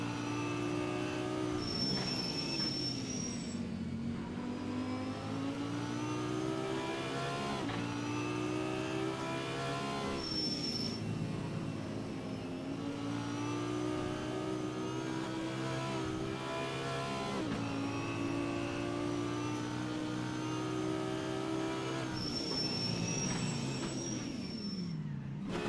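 A Lamborghini race car in a sim racing game at Kyalami screams through repeated gear changes, its engine pitch rising and dropping in long sweeps, loud and continuous with brief shift cuts.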